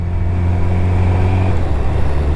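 A car overtakes during a summer evening ride, its loud engine a steady droning hum close by with a rising tone as it pulls ahead, and no talking.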